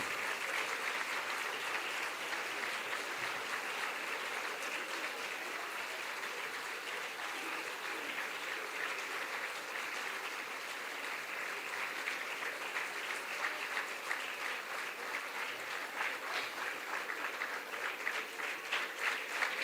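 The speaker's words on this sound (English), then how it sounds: "Let's keep the applause going." Sustained audience applause at a heritage event in Assam, a steady wash of many hands clapping at moderate distance, continuing evenly for the whole stretch with no speech over it.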